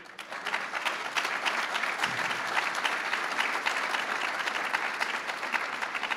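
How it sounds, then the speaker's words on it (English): Sustained applause from a crowd at an awards and scholarship ceremony, steady and fairly close, a dense patter of clapping hands throughout. "we have to give a big round of applause to all those young people"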